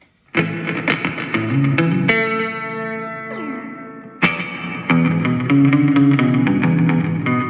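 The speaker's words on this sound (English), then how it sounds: "this is delay and reverb" An electric guitar through a Fender Champion 20 amp with delay and reverb plays loud distorted chords and a sustained note that trails off in repeating echoes, then more strummed chords, with no voices.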